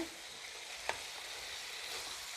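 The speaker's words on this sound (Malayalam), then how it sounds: "നന്നായിട്ടൊന്ന് മിക്സ് ചെയ്യുക" Liver fry masala with water is stirred in a pan over low heat, a quiet steady sizzle with one brief scrape of the spoon partway through, close and faint.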